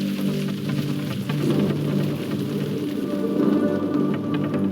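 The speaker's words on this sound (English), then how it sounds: "the strong thunderstorm is now producing large hail across the open country." Heavy rain pours steadily and loudly from a strong hail-producing thunderstorm over open country, with a low rumble of thunder running underneath.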